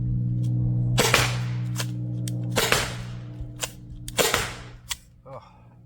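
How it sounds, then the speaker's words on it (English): A Byrna SD launcher fires pepper ball rounds in four sharp, loud pops spaced about a second and a half apart, with fainter mechanical clicks between shots and no talk. "We're testing out the Burna with the pepper ball rounds."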